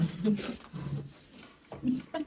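A dog whimpers and makes soft breathy vocal sounds in short bursts, close by, with quiet pauses between.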